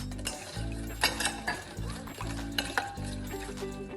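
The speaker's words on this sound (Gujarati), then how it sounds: "એને પણ એકદમ સારી રીતે મિક્સ કરી લેવાનું" A spoon stirs plum cake batter mixed with caramelized sugar in a bowl, scraping and clinking in repeated strokes over a low steady hum, close but fairly quiet.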